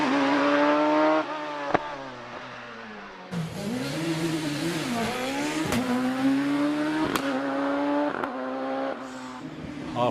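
A Force TA race car climbs the Prescott hill, its engine howling loud and close as it revs through gear changes, with sharp upshift breaks and a continuous rising and falling whine.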